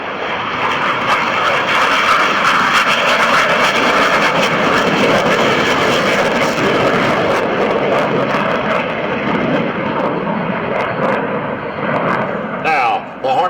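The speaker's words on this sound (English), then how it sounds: "FA-18 Hornet on the roll." A simulated F/A-18C Hornet jet rolls for takeoff in Microsoft Flight Simulator X, a loud, sustained roaring engine blast that stays steady and dense throughout, with no voices heard.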